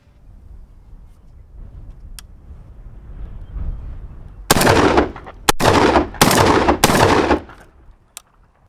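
A GForce GF12AR semi-auto shotgun firing high brass 2¾-inch pheasant loads of #4 shot, four loud close blasts in fast succession after a stretch of quiet outdoor ambience.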